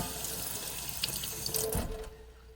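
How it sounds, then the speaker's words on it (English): A kitchen tap runs steadily as zucchini are rinsed under hot water with a little soap, a continuous splashing stream with brief clatters before the flow cuts off. "I always rinse them off with just a little soap and hot water just to get all of the dirt off"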